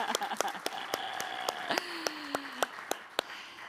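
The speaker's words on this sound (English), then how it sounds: "let's give him a round of applause" Scattered, uneven claps from an audience at a church service follow live band music, with sustained tones and a sliding voice-like pitch running beneath the claps.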